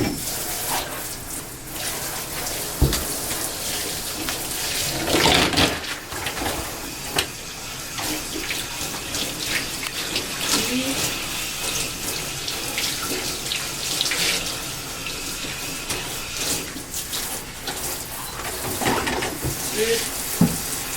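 Water runs from a tap while legs and a bath are rinsed, a continuous close splashing and gushing with occasional knocks and shifts in the flow.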